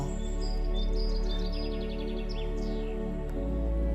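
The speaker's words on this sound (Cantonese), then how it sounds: "遠處有鳥兒輕輕唱歌" Birds sing softly in the distance along a quiet forest path, with brief high chirps and trills rising over a steady, sustained musical drone.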